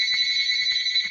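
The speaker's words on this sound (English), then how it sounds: "That's my phone rings." A phone rings with steady electronic tones, loud and continuous, heard alone with no talking.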